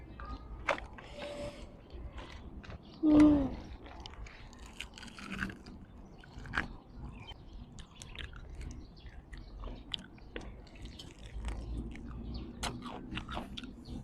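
Someone eats crunchy Thai papaya salad with blue crab, close chewing and crisp bites scattered irregularly, with one louder crunch and soft wet mouth sounds.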